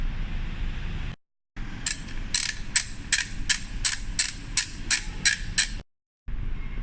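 A hand ratchet clicks in a quick, even series of about a dozen ticks, close up, while a side panel comes off a Yamaha MT-09 motorcycle. Short pauses sit before and after the run.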